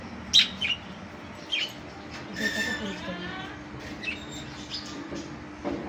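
Pet birds in a home, including a white one, chirp in short high tweets scattered through the clip, close by and fairly quiet, under a steady background hum with a person talking.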